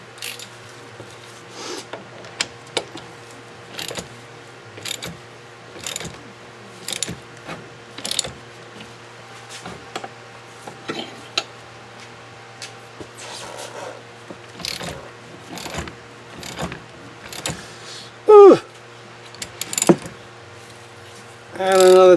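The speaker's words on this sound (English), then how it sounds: "So now I'll be pulling this CV joint against the axle" A bolt puller is cranked to draw a CV joint off the axle of an Audi Q5, giving a long series of regular ratcheting clicks under a low steady hum, ending in a couple of louder clunks.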